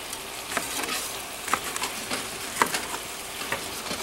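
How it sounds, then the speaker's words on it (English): Chinese cabbage frying in a pan with a steady sizzle, punctuated by occasional sharp clicks and scrapes as it is stirred, close and continuous with no talking. "And throw that in and fry it around"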